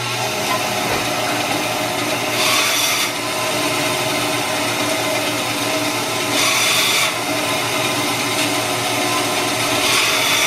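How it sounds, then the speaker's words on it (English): Ash wood branches being trimmed with a power tool for a coat rack, a steady grinding whir with two brief louder bursts of cutting noise, no talk. "So right now I'm just going to trim these guys up, some of the stuff that we don't need off of them."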